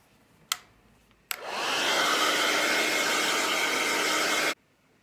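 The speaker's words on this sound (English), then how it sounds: "my blow dryer worked, and now my picture is more dry" Blow dryer drying a wet painting of a landscape, a steady loud whooshing airflow running for about three seconds after a couple of sharp clicks, then cutting off abruptly.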